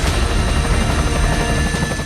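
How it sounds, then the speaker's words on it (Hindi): Firefighting helicopters flying over burning hills during the Los Angeles wildfires as they drop water, giving a loud, steady rotor and engine roar that fills the whole stretch without pause. "आसमान से लगातार हेलीकॉप्टर्स पानी की बरसात कर रहे हैं।"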